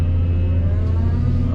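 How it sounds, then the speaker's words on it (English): A pickup truck's engine runs at a steady mid-pitched rev while backing down into a pond dam work site, loud and close, with no voices. "So I can go ahead and back the truck back down in here"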